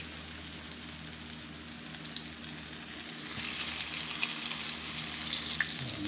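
Hot cooking oil sizzles in a frying pan, a dense crackling hiss that swells louder halfway through, heard up close with no voices.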